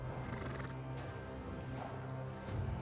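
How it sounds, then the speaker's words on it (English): A horse snorting and whinnying in the video game Warhammer 40000: Rogue Trader, a steady close animal sound over game ambience with hoof-like clatter, running continuously throughout. "The horse snorts and shows you its large teeth."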